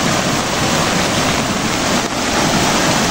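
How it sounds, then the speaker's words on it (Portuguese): A constant, loud wash of rushing water, close and steady from start to finish, like a small waterfall pouring nearby on a rural smallholding after heavy rain. "Ó, temos até uma cachoeira aqui"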